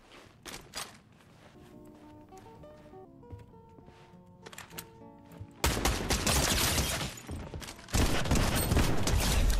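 A quiet run of distant game shots and musical tones gives way to dense, loud bursts of rapid gunfire in a competitive shooter, the firing packed tight and heavy through the last few seconds.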